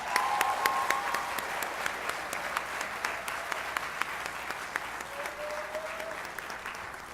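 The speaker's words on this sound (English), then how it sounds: "Please, let us give him another round of applause." Audience at a graduation ceremony applauding a speaker, sustained crowd clapping that holds steady for several seconds with a faint tone drifting in the background.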